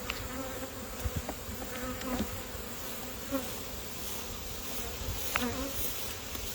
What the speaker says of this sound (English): The spicy raisin is a honeybee.